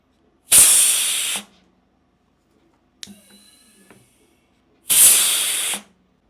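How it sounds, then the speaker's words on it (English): Compressed air hisses through the fitting of an air cup lift system for shocks with a 14mm shaft, in two loud, sharp bursts of about a second each, with a softer clatter and brief hiss between them. "We've got our compressed air right here."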